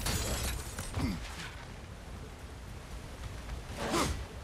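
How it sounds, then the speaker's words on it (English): Pottery smashes in the video game Dad With Boy 2, with two separate brittle crashes, one early and one near the end, over a steady low background hum. "Yeah, smash the pottery."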